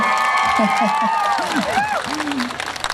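Crowd at a Thai Kathin charity concert on a university campus in Khon Kaen cheers and claps, with loud, swooping voices riding over the applause throughout.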